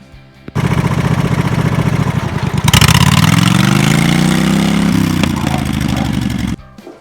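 A dirt bike engine starts and runs up close and loud, its steady buzzing idle rising into a sustained rev that eases back before cutting off.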